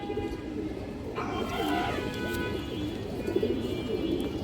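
Pigeons coo in low, soft, repeated calls over a steady background murmur, with a few faint chirps mixed in.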